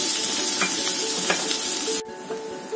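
Chopped onions fry with salt in a hot pan, giving a steady, loud sizzle with light stirring. The sizzle drops off abruptly partway through, leaving a quieter, muffled hiss.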